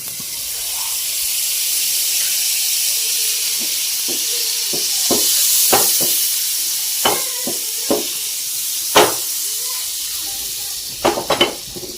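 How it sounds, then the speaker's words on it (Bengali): A spoonful of butter hisses and sizzles steadily on a hot tava griddle, with scattered clinks of a spoon or utensil against the pan rising toward the end. "এখন আমি তাবার মধ্যে এক চামচ বাটার দিয়ে দিচ্ছি"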